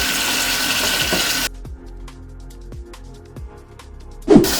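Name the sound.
sink filling with cool water from the tap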